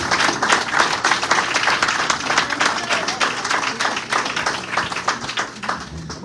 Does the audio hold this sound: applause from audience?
yes